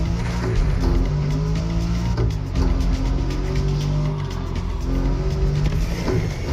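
Tuned Mustang GT muscle car in The Crew Motorfest racing game, a loud steady engine drone with stepping tonal shifts as it clunks through gear changes, continuous and close, no talk.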